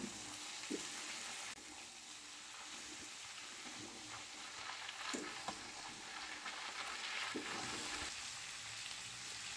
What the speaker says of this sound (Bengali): ধনের গুঁড়ো, কাশ্মীরি লঙ্কার গুঁড়ো, হলুদের গুঁড়ো, সব একসাথে ভালো করে কষিয়ে নিই।